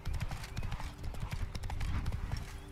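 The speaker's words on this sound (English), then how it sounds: "Hey, horses! Nice horses." Horse hooves clip-clop steadily in an outdoor scene in the PC game The Witcher 3: Blood and Wine, a close, busy rhythm of hoof strikes over a background of game ambience.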